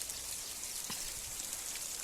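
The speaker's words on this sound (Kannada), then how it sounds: "ಕ್ಲೈಮೇಟ್ ಸ್ವಲ್ಪ ಬಿಸಿಲು ತಕ್ಷಣ ಸಡನ್ನಾಗಿ ಮಳೆ ಬಂದೇ ಬಿಡುತ್ತೆ" Sudden rain falling as a dense, steady hiss of drops, fairly faint and even, with a few nearer drips.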